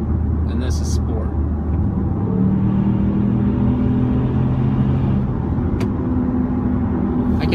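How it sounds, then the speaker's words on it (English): Cabin sound of a 2016 Ford Explorer with a 3.5L EcoBoost twin-turbo engine driving in sport mode, a steady loud engine and road rumble with a rising tone, heard under a person talking. "see if you guys hear a difference from me having it in drive versus putting the transmission in sport mode."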